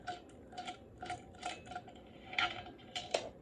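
A wrench works a stuck bolt loose on the secondary clutch of a Trailfire LX snowmobile, giving a series of rhythmic metallic ratcheting clicks and scrapes, close and fairly quiet, with no talking.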